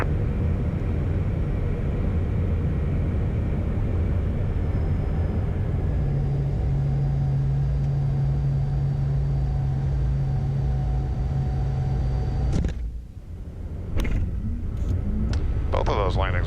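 Jet aircraft touching down on runway 9 at Key West, a steady loud low rumble of engine and rolling wheels that drops away abruptly near the end, with voices talking over it.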